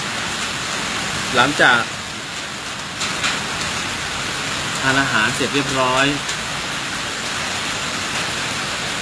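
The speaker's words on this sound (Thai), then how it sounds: "ฝนตก" Steady natural rain hisses evenly throughout as a constant wash of noise, with someone briefly speaking Thai over it in two short bursts.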